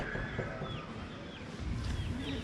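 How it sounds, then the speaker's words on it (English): Chickens cluck and chirp faintly in the background over a low, steady outdoor murmur. "Chickens hanging out."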